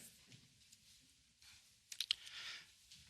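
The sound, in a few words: computer mouse click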